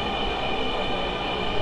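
Metro rail train pulling into a station, a steady loud rolling rumble with a constant mechanical hum, no voices.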